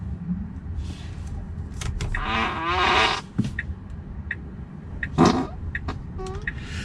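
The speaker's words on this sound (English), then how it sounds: "There's a fart noise that's associated with the thing." A rented Tesla's turn signal plays a novelty fart noise, heard as a couple of short, close, buzzy bursts inside the car amid faint cabin clicks and rustling.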